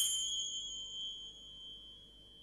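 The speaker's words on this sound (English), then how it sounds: "if you just turn them around, you get a vibrato effect onto the sound as well" Metal percussion bells or finger-cymbal-like instruments ring with sustained high tones that waver as they are turned, giving a soft vibrato shimmer that slowly decays, heard alone and fairly quiet.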